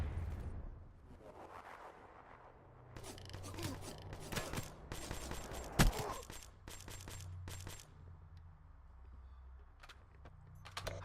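Gunfire and a grenade blast in the video game Black Ops 3, with scattered sharp shots building into a dense volley and one loud burst near the middle, then quieter rumbling and a few more distant shots.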